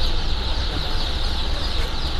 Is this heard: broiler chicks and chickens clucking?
yes